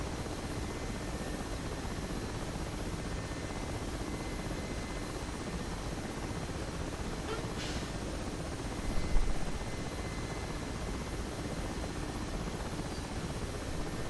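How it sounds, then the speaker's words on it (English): A Mi-8 Hip helicopter flies in the DCS World combat flight simulator, its rotor and turbine giving a steady, dense drone throughout, with one brief click partway through. "today is Mi-8. We're going to be flying a lot of Mi-8."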